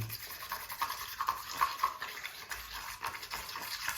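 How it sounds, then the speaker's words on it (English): Plaster being mixed with water in a container for a model railway tunnel section, giving continuous wet swishing and scraping with small clinks, moderately close and steady throughout, with no talking. "I'm mixing up some plaster to put over this centre section"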